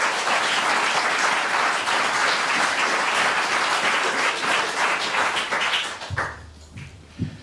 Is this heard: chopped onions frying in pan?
no